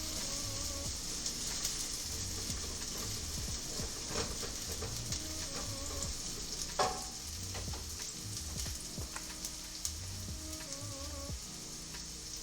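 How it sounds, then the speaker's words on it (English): Food stirred in a pot while chicken ramen in shoyu broth cooks, a steady sizzle and bubbling bed with occasional scraping stir strokes and light clinks throughout, close and fairly even. "I'm gonna use this thing to stir it"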